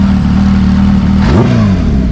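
A Kawasaki Ninja H2 motorcycle engine is revved up close and loud, a steady throaty drone that climbs in pitch as the throttle opens. No one speaks.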